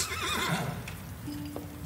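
A horse in a Vampire: The Masquerade audio log lets out a loud, wavering neigh that fades into quiet, followed by a faint thin tone.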